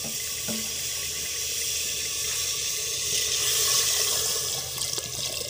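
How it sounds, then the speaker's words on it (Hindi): Water poured into a cooking pot over freshly tempered spices, a steady hissing rush that swells toward the end before tapering off, close and loud with no talking. "तो इसमें मैं पानी डाल दूंगी।"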